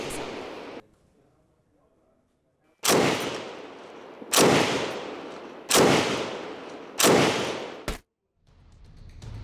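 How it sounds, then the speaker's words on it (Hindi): A Negev 7 machine gun fires during combat in Gaza City's Shujaiya area: four loud, sharp bursts of rapid automatic fire, each lasting about a second, separated by short pauses after an opening volley. "नेगेव 7 मशीन गन किस तरीके से युद्ध में इस्तेमाल हो रही है, उसकी तस्वीर"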